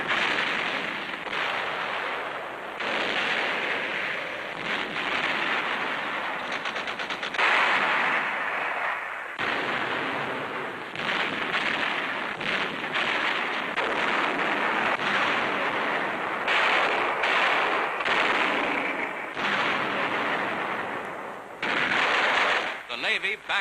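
Artillery and gunfire during the battle of Iwo Jima, with naval guns backing land artillery: dense, continuous rumbling bursts and crackling reports, loud and sustained, with a brief drop near the middle.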